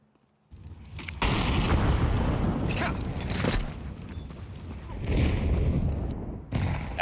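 Grenades land in a professional Counter-Strike match, giving a series of heavy booming blasts and rumbling bursts after a quiet start, with loud impacts near the middle and end and voices talking underneath.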